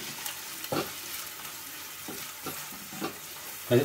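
Sliced onions and green chillies frying in hot oil in a pan, a constant sizzle with occasional spoon scrapes and stirring knocks, fairly close.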